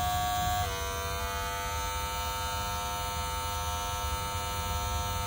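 Wahl Magic Clip cordless hair clippers, fresh out of the box and fully charged, run at a steady high-pitched electric buzz, close and continuous without pause.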